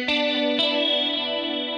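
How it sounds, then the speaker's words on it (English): Guitar run through chorus patch number 15 on a rack effects unit, a sustained shimmering chord with two picked attacks near the start, steady and close with no voices. "You might even recognize the chorusing effect on here."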